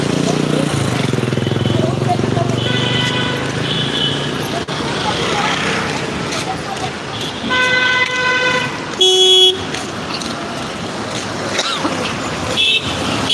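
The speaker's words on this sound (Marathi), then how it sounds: "भीती वाटतं न गाड्या जास्त चालू आहेत" Motor traffic on the Bhimashankar road rumbles past continuously, with a few loud car horn toots standing out midway and near the end, and people talking over it.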